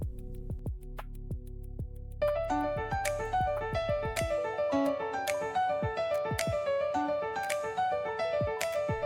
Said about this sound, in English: Corporate podcast intro, confident and professional, driving piano and light percussion, modern and clean,